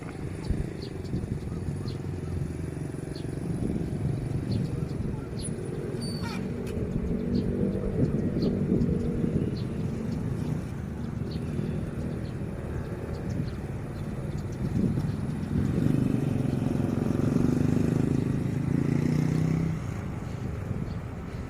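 A Hitachi 4505 diesel locomotive hauling train 31 accelerates toward a level crossing near Ban Bang Li, Ratchaburi, a sustained low engine rumble swelling in the middle distance with faint outdoor background.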